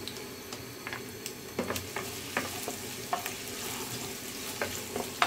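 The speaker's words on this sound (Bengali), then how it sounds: "তারপর আমি সেখানে রসুন কুচি আর আদা ফ্রাই করে নিতে আছে।" Chopped garlic and ginger fry in local mustard oil, a steady close sizzle broken by frequent sharp scrapes and clicks of a spatula stirring through the pan, with no voices.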